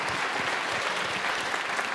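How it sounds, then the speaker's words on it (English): Audience applause for a jazz band at the Riga Jazz Stage, a dense, even wash of clapping from a crowd, continuous and fairly loud. "By the way, give a big applause for the band."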